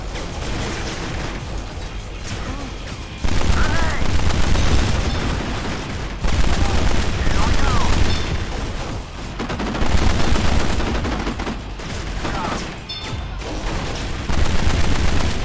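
Rapid machine-gun fire during a shootout in the video game Kane and Lynch: Dead Men, sustained loud bursts with explosive booms and debris rattling as walls are destroyed, dense and continuous.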